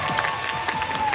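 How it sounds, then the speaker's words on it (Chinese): Brief burst of audience clapping and cheering at a fan meeting in Taipei, dense and lively, with some excited shouts mixed in. "请掌声。"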